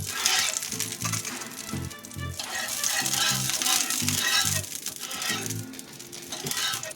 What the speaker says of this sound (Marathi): पॅन गरम झाला की त्यावर असं तेल टाकायचं तेल सगळीकडे पसरून घ्यायचं